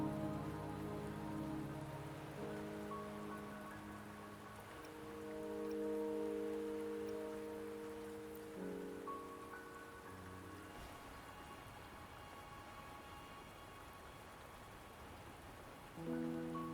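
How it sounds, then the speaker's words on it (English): Steady rain patters across surfaces in the video game Wuthering Waves, a soft continuous hiss beneath sustained, gentle game music. "Don't worry, the rain won't last much longer."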